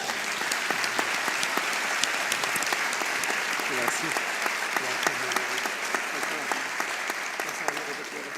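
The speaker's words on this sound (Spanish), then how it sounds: "que eso merece otro fuerte aplauso" A seated audience at a literary dialogue event claps steadily for several seconds, a dense even wash of hands with sharp individual claps standing out and faint voices beneath.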